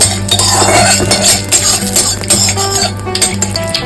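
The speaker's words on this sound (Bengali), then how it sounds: "ভালোভাবে ফোড়নটাকে নেড়ে নেব" A spoon clatters and scrapes steadily against a pan while bay leaf and five-spice tempering is stirred in hot mustard oil. The metallic noise is close and continuous.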